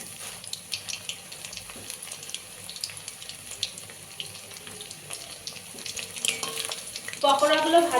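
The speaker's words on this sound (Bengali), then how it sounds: "পকোড়াগুলো ভাজা হয়ে গেছে" Chicken pakoras deep-fry in oil over a low flame with a steady, moderate crackling sizzle and occasional clinks, and the bubbling and stirring grow louder near the end.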